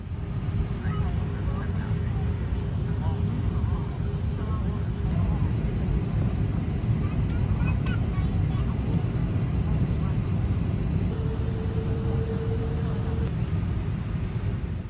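A Hong Kong Airlines Airbus A330 airliner waits on the runway before takeoff, its engines a steady low rumble and cabin hum heard from inside, with a faint tone running through it.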